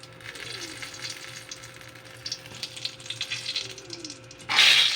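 Sliced eggplant fries in hot oil with a steady, close crackling sizzle and scattered pops of splattering grease, ending in a sudden louder hissing burst.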